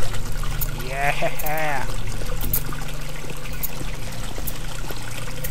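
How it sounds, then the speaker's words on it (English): Running water from a tap in White Night, a steady, close hiss and trickle that continues throughout while someone speaks briefly near the start. "Can I turn off the water?"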